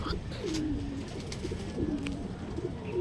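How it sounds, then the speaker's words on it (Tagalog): Pigeons coo softly in low, rolling calls against a steady outdoor background. "magpalipad lang tayo ng ibon"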